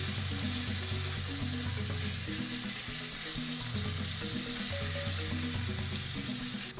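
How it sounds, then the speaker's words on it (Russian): Finely chopped garlic sizzles steadily in a hot pan for a Pad Thai, a continuous bright frying crackle with some faint stirring underneath and no talking. "Отправляем чеснок. Мелко нарубленный, тоже слегка обжариваем."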